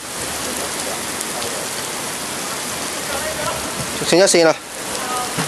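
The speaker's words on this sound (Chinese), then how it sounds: "即刻就落場大雨" Heavy rain pours onto a football pitch during a match, a dense, even hiss that fills the whole stretch, with a commentator's voice breaking in briefly near the end.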